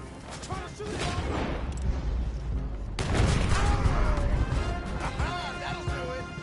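Gunfire in the video game Red Dead Redemption 2, a rapid volley of loud cracks and crashing impacts under excited game dialogue, with a heavy burst midway followed by further shots.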